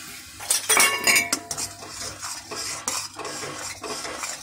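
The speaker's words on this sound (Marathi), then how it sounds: "व्यवस्थित चमच्याने पलिताने ढवळून घेते।" A metal spoon stirs roasted semolina into boiling milk in a pan while making sheera, giving close clinks, scrapes and knocks against the pan at an uneven rhythm, with no talking.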